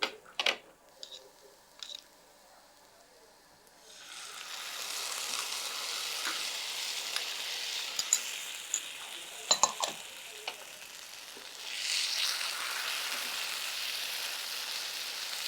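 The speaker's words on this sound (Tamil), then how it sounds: "இந்த வெங்காயம் பாருங்கள் நல்லா வதங்கிடுச்சு இந்த ஸ்டேஜில் நம்ம அரைச்ச விழுதை சேர்த்துக்கலாம்" Small onions with ground spice paste sautéing in a pan for milagu kuzhambu: a steady close sizzle after some initial clinks, with occasional spoon scrapes and a swell of frying hiss toward the end.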